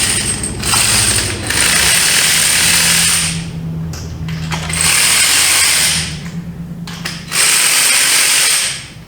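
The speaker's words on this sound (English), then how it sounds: "I'm just going to put them in there and just barely. Barely tighten them up." Ratcheting power tool or ratchet running in bursts while bolts are snugged on the transmission pan of a neglected Chevy C10 squarebody pickup, three long whirring mechanical passes with short pauses, close and loud, no talking.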